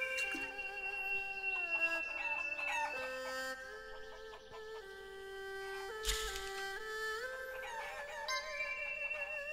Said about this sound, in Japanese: そこの鶏を10匹 また 捕まえろ。